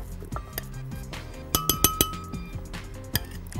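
Glass clinks and a few sharp taps as ice cream is scooped into a glass for a strawberry milkshake, with several close, bright knocks clustered midway over quiet background.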